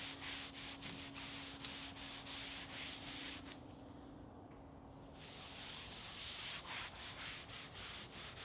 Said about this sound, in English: I rounded over the outside corners and sanded it down before applying some oil to it.